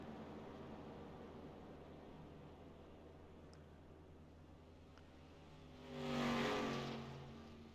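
Race cars in a stock car racing video game run down pit road, a steady engine drone with one louder car swelling past near the end.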